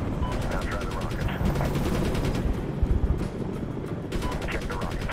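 Helicopter rockets and gunfire in the Medal of Honor (2010) video game, a dense, loud barrage of repeated bursts and blasts over a steady rotor-like rumble, with voices in the mix.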